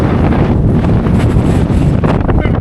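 Strong monsoon wind buffets the microphone at the Patte Pare viewpoint near Pushpagiri in Coorg, a loud continuous roar and rumble filling the whole stretch with no clear talk.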